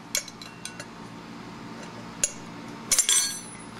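A 10mm T-handle wiggling a nut down into a KYB motorcycle fork during a rebuild, a few sparse light metallic clicks and clinks, the last ones slightly louder, over a quiet background.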